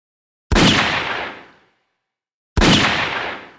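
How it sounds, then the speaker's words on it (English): Two loud gunshots fired inside a house, each a sharp blast with a decaying tail, about two seconds apart and heard alone. "Shadow, stop shooting in Cream's house"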